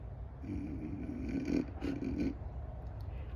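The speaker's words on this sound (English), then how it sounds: "I heard a snore." Soft snoring, a couple of drawn-out rasping breaths in quiet surroundings, fairly faint and close.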